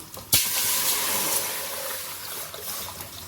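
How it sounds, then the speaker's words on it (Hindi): Water pours steadily into a metal cooking pot set on the stove while onions brown for chicken haleem, beginning with a sharp splash and then flowing and hissing continuously, close and fairly loud. "इसमें हम अपना पानी डाल देंगे"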